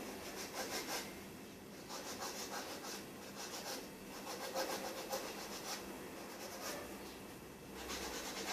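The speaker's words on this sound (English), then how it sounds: "again I always use a 180, 100 grit file" Acrylic nails are filed with a 180/100 grit nail file, a quiet, dry scratchy rubbing in repeated back-and-forth strokes with short pauses between bursts.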